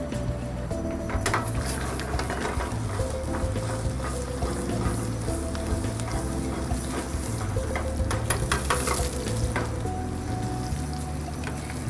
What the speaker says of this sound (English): We braise it a little bit with the butter.